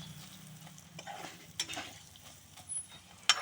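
Something fries in a pan as it is stirred in a home kitchen, making a soft, fairly quiet sizzle with a few scraping strokes and a sharp utensil clink near the end.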